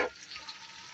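Crab dropped into hot butter and garlic gives a brief burst of splatter, then settles into a faint, steady frying sizzle, close and alone.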